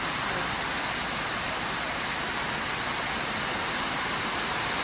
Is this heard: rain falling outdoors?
yes